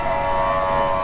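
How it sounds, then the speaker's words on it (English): A steady, piercing siren wails outside Suvarnabhumi Airport in Thailand, a loud continuous tone holding without pause, with no talking. "Please excuse the siren."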